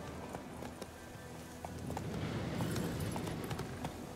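Horse hooves clip-clopping at a steady pace in The Witcher 3, faint rhythmic steps over ambient game background, no voices.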